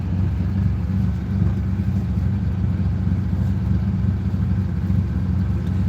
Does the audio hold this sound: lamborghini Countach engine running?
yes